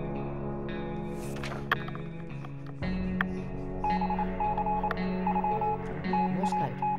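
A Morse code radio signal in 60 Seconds! Reatomized taps out short and long electronic beeps in an uneven pattern, fairly clear over a steady background hum.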